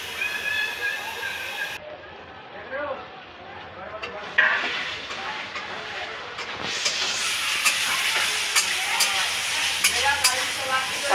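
Food stirred and fried in a pan before water goes in, a close hissing sizzle that grows louder and steadier partway through, with spoon scrapes and a voice talking at times.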